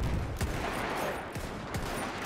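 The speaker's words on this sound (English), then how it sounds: "Let's throw some artillery down there." Heavy gunfire and booming artillery blasts in the Mount & Blade Warband mod The Parabellum, dense overlapping shots with a few sharper thumps standing out over continuous battle noise.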